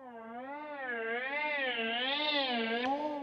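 A GForce M-Tron Pro IV synth holds one sustained note while its LFO sweeps the pitch slowly up and down in a smooth, steady vibrato for about three seconds. The note is moderately loud, ends with a short click, and no one speaks.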